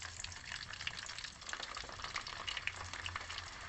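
Curry leaves and whole garlic cloves fry in hot oil in a pan, giving a steady close crackling sizzle with small pops scattered throughout.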